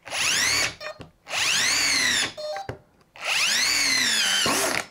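Festool cordless drill run in its highest fourth gear: three bursts of whirring motor, each rising fast to a high pitch, holding, then spinning down, with short pauses and clicks between.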